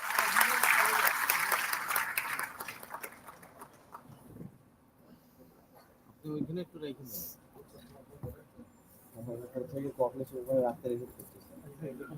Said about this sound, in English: Could you please have a round of applause for Ashraf sir?